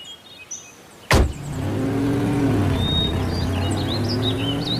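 A cartoon car starts up with a sharp thud and then drives on with a steady, loud engine hum, and a few faint chirps sit over the top without any talk.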